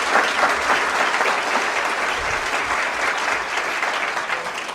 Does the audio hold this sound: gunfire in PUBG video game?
no